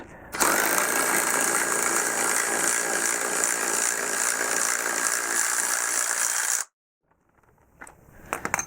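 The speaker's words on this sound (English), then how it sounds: "Now we'll release tension on the spring compressor." A power tool, whirring and rattling loudly and steadily for about six seconds, releases tension on a strut spring compressor during a BMW F2x/F3x spring and shock job, then stops abruptly, leaving faint handling noises.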